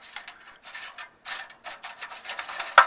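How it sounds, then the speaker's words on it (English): A small probe scrapes and rubs inside an old Ford Model A radiator, pushing loose debris down, in close, uneven bursts of gritty scratching with brief pauses and one sharp tick near the end. "Now I'm pushing all this junk to the bottom, so we'll wash that out in a little while."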